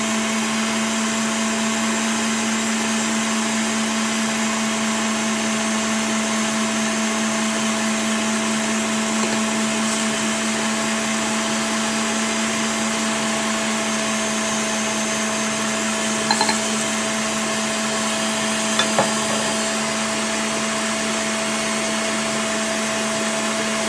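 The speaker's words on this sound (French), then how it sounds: "j'ai mis les blancs dans mon robot. On va monter ça en neige" Stand mixer whisking egg whites into stiff peaks for a Nutella roll cake, a steady loud motor whir with a constant hum running without a break throughout.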